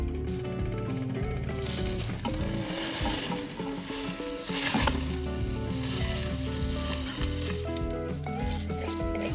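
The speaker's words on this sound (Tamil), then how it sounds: "இது சைடில் இதுவும் நல்லா கிரேவி கொதிச்சுக்கிட்டு இருக்கு" Gravy for Hyderabadi chicken dum biryani boils and sizzles loudly in a pot, a dense continuous bubbling hiss with clinking and stirring sounds mixed in.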